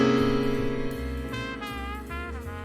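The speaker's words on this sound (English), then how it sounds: "The 7-sharp 13th chord sounds like this." A sustained 7-sharp 13th extended chord rings out on a keyed instrument, a rich stack of held tones with upper notes shifting and re-sounding as it decays, alone with no talk.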